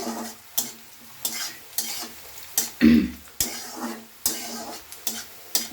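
Sliced onions with chillies, cumin, bay leaf and dried red chillies frying in oil for a veg dal, a constant close sizzle broken by repeated sharp stirring scrapes of a spatula against the pan at a loose rhythm.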